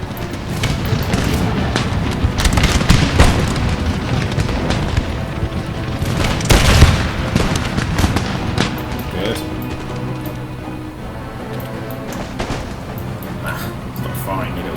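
Musket volleys and artillery booms from a Darthmod-modded Empire: Total War battle with Ottoman forces, a dense rumbling barrage of overlapping blasts throughout, peaking near the middle, with someone talking over it.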